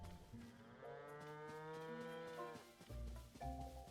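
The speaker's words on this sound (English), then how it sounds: "it looks like they just have sheep and cows" Cows at a stable in the video game The Legend of Zelda: Tears of the Kingdom, one long drawn-out low moo heard clearly, followed by shorter lowing calls near the end.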